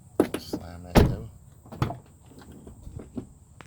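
A 2015 Jeep Grand Cherokee door slams shut once with a sharp, heavy thunk close by, after a few lighter latch clicks, with quieter handling knocks following.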